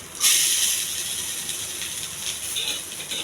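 Chana dal, curry leaves, green chilli and onion fry in hot oil, giving a steady bright sizzle and hiss that flares at the start and keeps crackling softly throughout.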